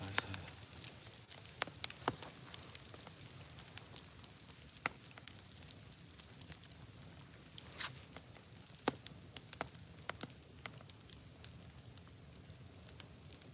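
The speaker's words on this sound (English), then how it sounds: "You hear the rain? Yeah. It comes and goes." Rain falling outside a cabin, a quiet steady patter with scattered sharp drips and taps on the roof and surfaces, coming and going over a low background hush.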